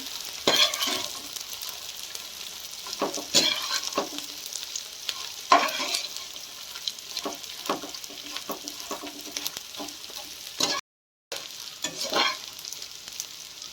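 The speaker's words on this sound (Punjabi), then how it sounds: "ਹੁਣ ਇਹਦੇ ਵਿੱਚ ਗੂੰਦ ਪਹਿਲਾਂ ਕਰ ਲੈਣੀ ਹੈ ਫਰਾਈ ਲੋ ਗੈਸ ਤੇ ਕਰਨੀ ਹੈ ਫਰਾਈ ਗੂੰਦ" Edible gum (gond) frying in ghee in a pan over low gas for Punjabi panjiri, a steady crackling sizzle with scraping stirs throughout, close and fairly loud, briefly cut out near the end.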